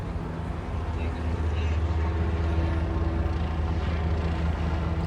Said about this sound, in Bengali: ওই যে হেলিকপ্টার যাচ্ছে